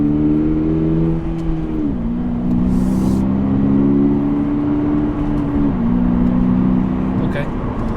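A 2022 Subaru BRZ with a 2.4-liter engine idles and revs nearby, a deep steady drone rising and falling through a few throttle blips, with brief talk alongside.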